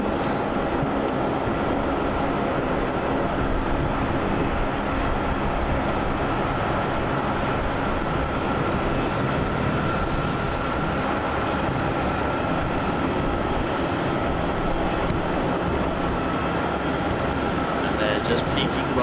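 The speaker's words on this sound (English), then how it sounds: "there is that touchdown of that Jetstar A320" A Jetstar Airbus A320 touches down at Melbourne Airport with a continuous, distant roar of jet engines and rolling noise, steady throughout under intermittent talking.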